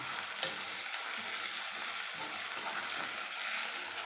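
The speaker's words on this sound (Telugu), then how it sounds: "బాగా వేగుతున్నాయి చూడండి" Gram flour bajjis bubble and sizzle steadily in hot oil, a close, continuous crackling hiss with a few brief stirring scrapes and no voices.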